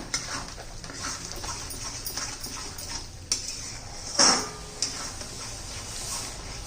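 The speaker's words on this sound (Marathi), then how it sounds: "कांदा लसूण मसाला दोन चमचे सर्व या मसाल्यापर्यंत मसाल्याबरोबर परतून घेऊया" Bitter gourd and homemade onion-garlic masala being stirred in a pan, with scattered metallic scrapes and clinks of a spoon against the cookware over a faint background, with no talking.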